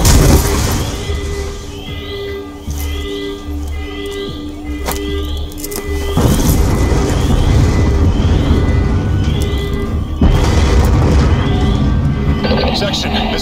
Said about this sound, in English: We're monitoring multiple explosions across the facility.